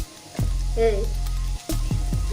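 Sliced green chillies drop into frying onions in a pan for spicy egg masala curry, setting off a loud sizzle with sharp bursts and stirring scrapes, while a voice talks briefly over the frying.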